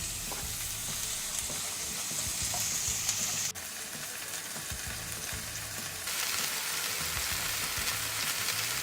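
Chopped tomatoes cooking in a pan for a blue swimmer crab curry, with a continuous close sizzle and frying hiss and occasional light stirring, no voices.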